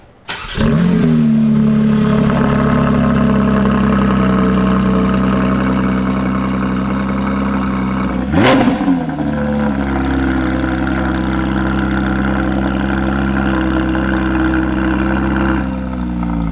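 Car engine on an R32, likely a Nissan Skyline, started and held at a steady loud idle with a deep rumble, then briefly blipped in a sharp rev near the middle before settling back to idle, close up with no talking.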